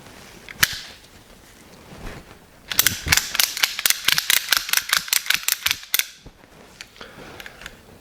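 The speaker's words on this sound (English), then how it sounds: "if you just click it back once, it stays there until you ratchet it tight" A retractable ratchet strap being ratcheted tight, starting with a few isolated clicks, then a fast rapid run of sharp ratcheting clicks for a few seconds, then a few more scattered clicks, close and clear.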